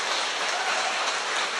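A dense, steady wash of applause from a crowd, many hands clapping at once with no distinct individual claps and no talking.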